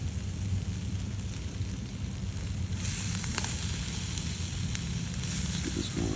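Kalbi beef sizzling on an Iwatani grill, a steady close crackling hiss with occasional sharper pops, fairly quiet and continuous.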